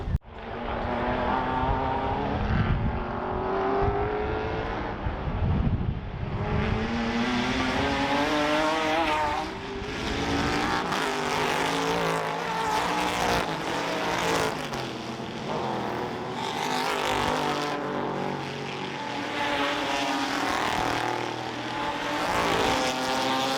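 Vintage race cars, among them a Porsche 904 and an E-Type, roar past on track at the Goodwood Revival, engines loud and near with pitch sweeping up and down as several cars pass in succession.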